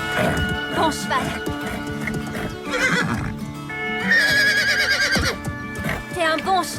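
A horse neighs and whinnies in a ranch scene, with people speaking French and music playing alongside it.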